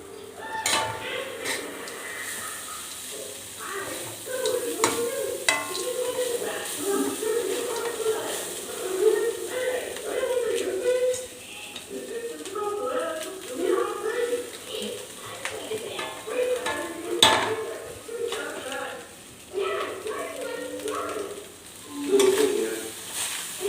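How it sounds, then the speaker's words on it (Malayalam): A spoon stirs cooked rice through tempering in a frying pan for lemon rice, with scraping clinks and a light sizzle close by as someone talks over it. "റൈസ് കുറച്ച് ഇട്ട് കൊടുക്കുക. ഇട്ട് കൊടുത്ത് ഇളക്കി ചേർത്തുകൊണ്ടേ ഇരിക്കുക"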